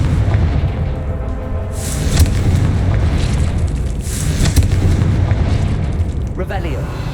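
Confringo fire spell explosions in the Hogwarts Legacy video game, a couple of deep booming blasts rolling over a dense, rumbling game soundscape.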